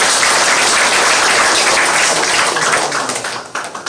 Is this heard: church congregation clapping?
yes